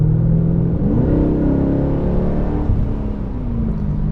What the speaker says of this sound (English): It is kind of droney, the exhaust system.